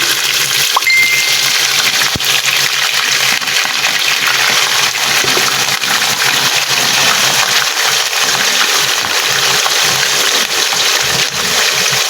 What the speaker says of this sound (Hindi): अब मैं इसमें गोश्त की जो बोटियां हैं वो डाल दूंगी।